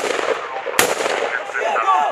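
Rapid gunfire bursts crack out during a live-fire military exercise with US Marines and Swedish tankers, a sharp loud report standing out amid continuous rattling shots and background noise, with some voices in the mix.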